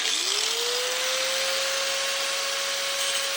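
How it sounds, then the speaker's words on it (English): A diamond tool cuts into hard carbide with a steady, loud whine that rises in pitch over the first half second and then holds one bright sustained tone, over a constant broadband grinding hiss. "The diamond will cut the carbide."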